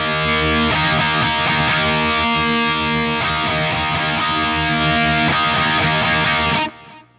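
Electric guitar lead tone with delay played through a TONEX pedal, a sustained distorted line with repeating echoes ringing continuously and loud before cutting off sharply at the end.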